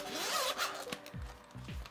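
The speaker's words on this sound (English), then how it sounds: "we do have a zippered enclosure, so I'll just unzip it." A zipper is pulled open around a hard shell toothbrush carrying case, a close, scratchy rasp in several quick strokes with brief pauses between them.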